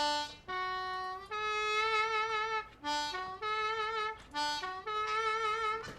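Harmonica playing a 3-hole draw note bent downward twice, several sustained reedy bent tones repeated in phrases with short breaths between, clear and close with no talking.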